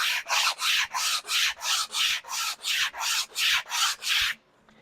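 Abrasive sanding on a wooden back joint strip, about eleven even back-and-forth rubbing strokes in a steady rhythm, close and fairly loud with no talk, ending in quiet.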